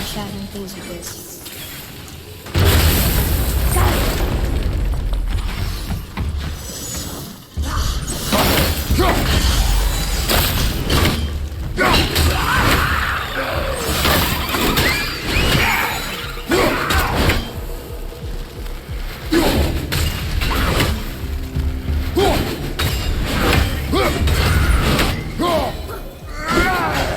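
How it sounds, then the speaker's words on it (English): Objects shatter and smash repeatedly during combat in the PS5 game God of War, heavy crashes and thuds piling up over a dense game soundtrack with a spoken voice. "I will never get tired of shattering things with this."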